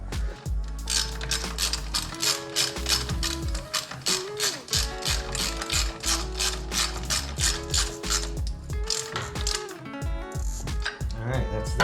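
A ratchet clicks rapidly in repeated bursts while tightening a nut on a 2021 Yamaha YFZ 450R ATV during a build, close and crisp, with short pauses between strokes.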